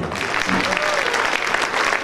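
An audience claps for an executive committee at a Bangladeshi heritage fair in Calgary, a dense, loud, continuous round of applause filling the hall.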